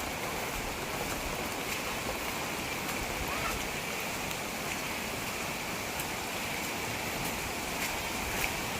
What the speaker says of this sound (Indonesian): Alirannya cukup deras.